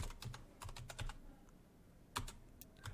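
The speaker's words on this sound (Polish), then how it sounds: "Tutaj na środku mamy y, opcję szukaj i wpisujemy moje imię i nazwisko" Computer keyboard keys tapped in quick irregular bursts while a name is entered into a YouTube search box, close and fairly soft with a brief pause midway and no talking.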